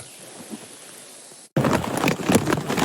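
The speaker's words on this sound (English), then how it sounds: "Raining again." Rain on a backpacking trail starting abruptly after a quiet stretch, becoming a loud, dense hiss of drops with heavier patters, as if striking a tarp overhead.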